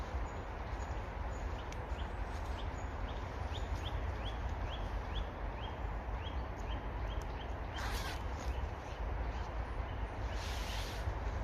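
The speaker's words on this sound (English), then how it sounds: "Listening to the birds." Birds chirp outdoors at a climbing spot in a rhythmic series of short, high calls over a steady background hiss, fairly faint and distant, with no talking.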